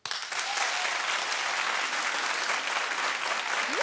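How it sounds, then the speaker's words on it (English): A studio audience at a daytime talk show breaks into steady, dense clapping that starts abruptly and carries loud and even throughout, with no voices over it. "Clap if you're with me."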